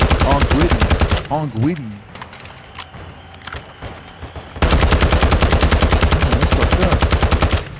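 Rapid automatic gunfire aimed at a UFO during an alien invasion event in Call of Duty Warzone 2: loud sustained bursts at the start and again in the second half, separated by a quieter stretch with a brief spoken exclamation.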